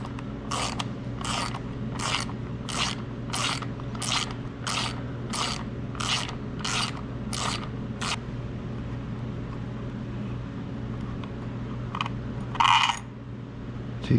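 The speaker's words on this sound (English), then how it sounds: "Take these bolts out." Bolts being loosened on a 2016 Harley-Davidson Street Bob during an air cleaner install, a ratchet clicking in about a dozen quick, evenly spaced bursts over a steady low background hum, close by.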